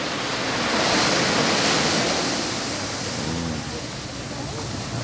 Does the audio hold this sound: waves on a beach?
yes